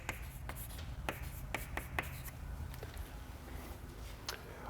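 Chalk or marker scratches across a board during a math lecture, a series of faint taps and strokes over a steady room hum, with no speech.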